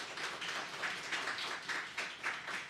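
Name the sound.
church congregation applause of blessing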